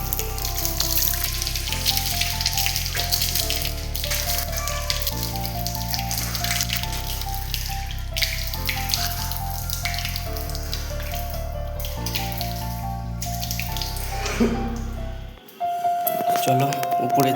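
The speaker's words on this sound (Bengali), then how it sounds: "তো হাত পাটা ধুয়ে নেই গাইস কল থেকে" Tap water runs and splashes while hands and feet are washed under an outdoor faucet after a market trip, steady splashing under loud rhythmic music that cuts out near the end.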